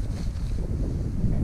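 Cold wind blowing across an open fell at a wild campsite, a steady low rumbling buffet with gusty microphone noise and no voices.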